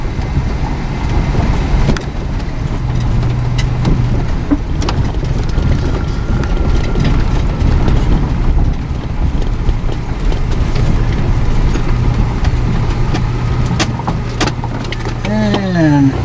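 Renault LeSharo motorhome with a MagnaShift controlled transmission pulling away in first gear, a loud steady engine drone with road rumble and rattles inside the cabin, continuous throughout.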